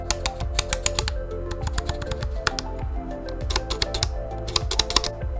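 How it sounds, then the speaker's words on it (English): Focus and aperture rings on an Olympus Trip 35 camera are twisted back and forth, giving rapid bursts of crisp, close mechanical clicks in quick ratchety runs with short pauses between. "It's got the lovely clicky focus ring and an even clickier still aperture ring."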